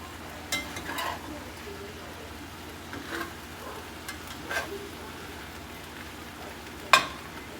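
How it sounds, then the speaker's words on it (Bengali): Peeled giant freshwater prawns frying in a home kitchen: a soft, continuous sizzle of hot oil, fairly quiet, with a few sharp clinks of a utensil against the pan scattered through. "গলদা চিংড়ি ছাড়িয়ে রাখা হয়েছিল, আজকে রান্না করা হচ্ছে"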